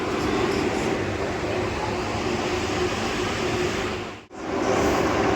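Continuous rumbling train noise heard from inside a carriage on a journey to Tirupati, loud and steady, briefly dropping out near the end before resuming.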